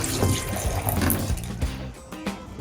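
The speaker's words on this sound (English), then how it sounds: "I will pour some RV and marine antifreeze down the drain here" RV and marine antifreeze poured down a shower drain, a close, fairly loud rushing, splashing liquid flow with a few sharp clicks and knocks mixed in.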